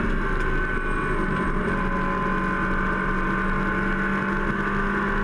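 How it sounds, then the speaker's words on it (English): Rear-engine Porsche 911 race car braking on a circuit during a Porsche IROC race, a loud steady engine drone with a sustained tonal whine, close and continuous without talk. "The rear engine 911s braking for Southern Loop."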